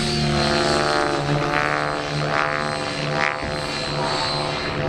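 An electric remote-control model helicopter performing pirouettes at an airshow, its motor and rotor whining steadily and loudly throughout, rising and falling slightly in pitch as it spins, with no voices.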